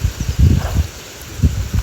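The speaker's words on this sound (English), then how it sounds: "Gosh, it's windy. Can you hear the wind?" Wind buffets the microphone in low, rumbling gusts, rising and falling unevenly with faint rustling behind.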